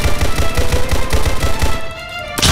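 Rapid pistol gunfire in the Roblox game Streetz War 2 cracks out in a fast, loud, regular burst of shots, then pauses briefly before another blast.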